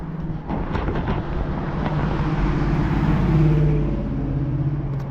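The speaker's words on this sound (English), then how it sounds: "Beautiful car that went by." An older car passes along a road during an outdoor walk, its engine and tire noise swelling to a close peak before fading, with some wind buffeting the microphone.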